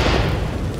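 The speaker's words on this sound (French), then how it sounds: "Grenade." A grenade goes off in The Division, a short, dense, loud boom with broadband rumble that sustains without decay across the whole moment.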